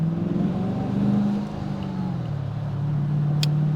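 A Gen 3 Hemi Dodge Challenger V8 idling and lightly revving, a deep steady rumble that rises briefly and settles, close and continuous with no talk.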